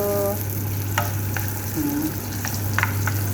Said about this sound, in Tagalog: O, ayan na, gisa-gisa na tayo.